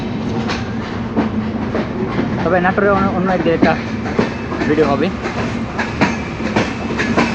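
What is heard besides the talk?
passenger train running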